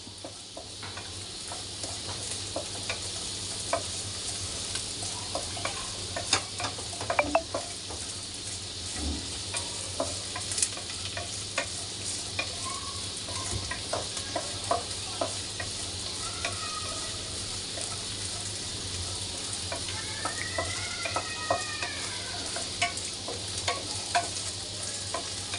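Curry ingredients fry with a steady sizzle in a pan while a spoon stirs them, scraping and clicking irregularly throughout at a moderate, close level with no talk.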